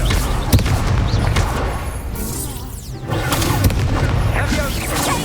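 Fiery spell blasts from the Confringo curse in the video game Hogwarts Legacy, heavy booming crashes and whooshes sustained loud throughout, with brief dips, under a voice shouting spell names.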